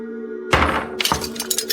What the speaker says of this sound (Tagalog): Nagulat ako nang marinig ang malakas na pagbagsak ng kung ano sa likuran.